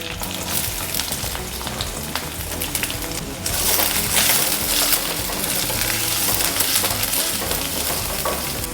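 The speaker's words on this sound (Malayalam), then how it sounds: "നമുക്ക് ഈ ഉള്ളി ഇതിലിട്ടങ്ങ് വരട്ടാം" Onion sautéed in hot oil with dried red chillies and curry leaves sizzles loudly and continuously, the frying surging noticeably stronger partway through, with light stirring and no speech.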